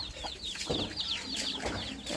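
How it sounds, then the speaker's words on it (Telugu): Young chicks peep and cluck as they play, a run of quick high chirps repeating close by over soft farmyard background, with no talk. "మా పిల్లలు అయితే కోడి పిల్లలు చూసారు కదండి ఏ విధంగా ఆడుకుంటున్నాయి"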